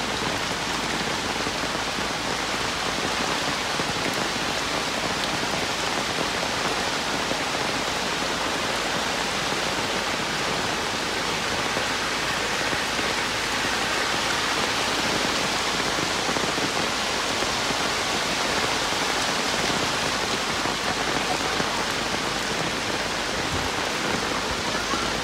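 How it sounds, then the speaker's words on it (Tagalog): Heavy rain pours without pause during Typhoon Kristine, a dense, loud, steady hiss of water drumming on surfaces that fills the whole stretch with no break. "Masalakas pa lalo pag nalakas ang ulan."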